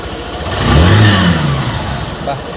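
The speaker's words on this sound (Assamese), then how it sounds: "এতিয়া আপোনাৰ মই চাইলেঞ্চাৰ শুনাই দিছোঁ, চাই লওক মাতটো এবাৰ" A 2021 Hero Glamour BS6 motorcycle runs close by, its engine and silencer exhaust giving a steady mid-pitched hum that swells in a brief rev before settling back toward idle, with a voice talking over it.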